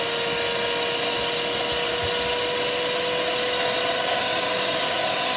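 Hamilton Beach 62648 hand mixer running on power boost, whipping egg whites: a steady, loud motor whine with a high tonal hum and broadband rush that hold level and unbroken throughout.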